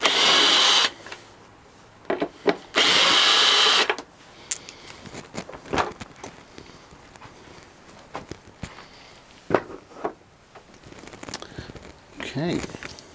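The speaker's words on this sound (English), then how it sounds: "I use it on a drill, it makes life easier" A cordless drill fitted with a 15mm Allen key bit drives the seat bolts on a 2016 Triumph Speed Triple, two loud sustained whirring bursts near the start, followed by quieter clicks and handling noises.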